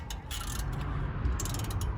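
A ratchet clicks in quick, irregular bursts while tightening nuts during a brake pad replacement, with close, sharp metallic pawl ticks over a low background hum.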